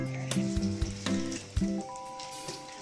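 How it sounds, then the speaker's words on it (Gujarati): Puris frying in hot oil in a home kitchen, a steady bubbling sizzle punctuated by a few soft clinks and taps of a utensil, close and fairly quiet. "મમ્મી અહીંયા તળે છે પૂરીઓ."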